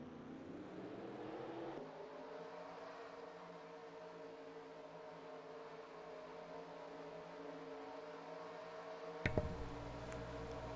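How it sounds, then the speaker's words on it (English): Stock car engines starting and idling in a racing video game at Atlanta for the Golden Corral 500, a low layered drone of many motors that rises as they fire, then settles into a steady hum, with a sharp burst near the end. "Drivers, start your engines!"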